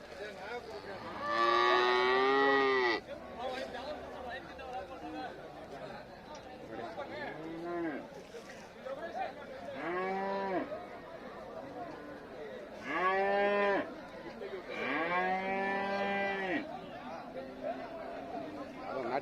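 Several loud moos from cattle and calves at a cattle market in Chintamani, some long and drawn out, others shorter, repeat through the clip, with people chattering in the background.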